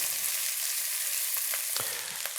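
Diced vegetables sweating and softening in a pan for pumpkin sage risotto give off a steady, gentle sizzle, close and continuous, with a few soft stirring clicks near the end.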